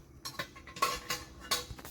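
Dishes clinking and scraping in a sink, a string of short clattering knocks close by with brief gaps between them.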